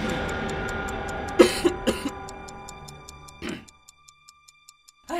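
A few sharp coughs and throat-clearing sounds erupt close by in the middle, set against a steady room hum and a faint ticking clock that carries on alone into near-silence afterward.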